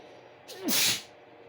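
A single sharp sneeze from someone during a physics lesson, a short near burst that rises and breaks off quickly against a quiet room.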